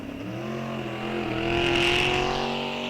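Drag race cars, a BMW and a '55 Chevrolet, launch off the line at the green light, engines building from a rumble into a loud rising roar that peaks and holds as they pull away.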